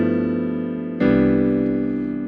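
Sustained piano chords in structure 1 rootless jazz voicings, one rich chord held and then a second struck firmly about halfway through and left ringing, close and clear with no voices.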